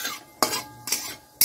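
Panch phoron and dried red chillies tempering in hot oil, heard as three crisp metallic spatula scrapes against the pan spaced about half a second apart, with little audible sizzle between them.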